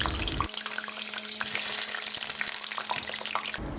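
Potatoes sizzle and crackle in hot oil in a frying pan, a close, steady frying hiss with small pops and a brief stirring scrape at the start and end.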